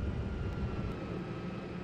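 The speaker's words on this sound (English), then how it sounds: "Attack helicopters from north!" Attack helicopters in the tank simulator Steel Beasts Pro produce a steady, droning engine and rotor roar that stays loud and unbroken through a brief moment, with no voices.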